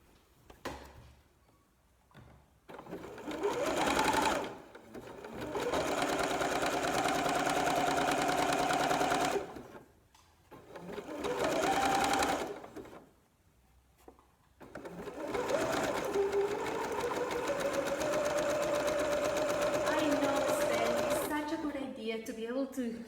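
Sewing machine stitching elastic onto an upcycled t-shirt for a bralette, running in several steady bursts of a few seconds each with brief pauses between, close and fairly loud, with some speech around it.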